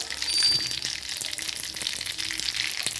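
Mustard seeds, cumin and curry leaves sizzle in hot oil, a dense, loud, close frying hiss with scattered popping crackles throughout and no talking.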